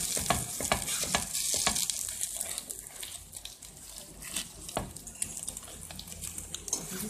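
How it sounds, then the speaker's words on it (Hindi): An egg paratha sizzles steadily on a hot pan as its second side cooks golden, with a continuous close crackle and occasional scraping or pressing sounds, and no talk. "दूसरी साइड से भी अच्छी तरीके से इसको हम पका लेंगे गोल्डन सा"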